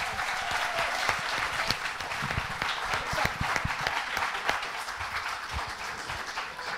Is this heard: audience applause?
yes